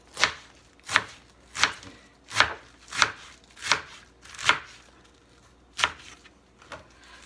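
A knife slices through vegetables, likely onion or scallion, on a cutting board, giving about ten sharp, evenly spaced chops, fairly close and alone with no voices.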